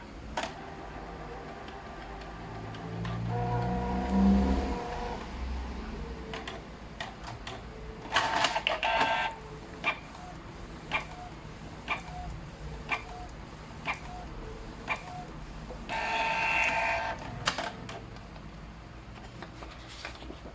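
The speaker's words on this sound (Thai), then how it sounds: "คราวนี้เครื่องจะทำการเทสหัวพิมพ์นะครับ" A Canon inkjet printer, one of the ip2770, mp287, mp237 or mp285 models, runs a print head test after a print head change. It gives off a whirring motor, then a long run of soft regular ticks and clicks, with busier mechanical bursts.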